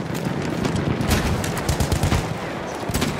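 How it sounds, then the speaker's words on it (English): Rapid, loud bursts of machine gun fire in Battlefield 1 conquest battle on Achi Baba, continuous crackling volleys with overlapping distant gunshots filling the whole moment. "Enemy machine gun sighted!"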